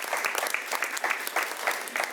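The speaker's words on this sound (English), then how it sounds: "I see our pre-K folks over there cheering it on because they are excited as well" Pre-kindergarten children applauding at an elementary school's first-day-of-school press conference, brisk steady clapping from a small group, fairly near and even, with no clear voices.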